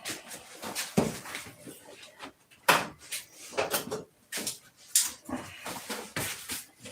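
Drawers of a metal tool box in a workshop slide open and shut several times, giving scattered clunks and rattles at moderate distance, with quiet handling noise in between.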